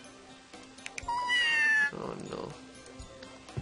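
A cartoon cat in Scribblenauts Unlimited gives one long, rising-and-falling meow at close range, followed by a person talking briefly.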